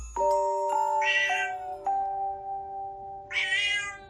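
A black cat meows twice close by, a drawn-out cry at first and a second short meow after a pause, over a faint sustained chime-like tone in a quiet room.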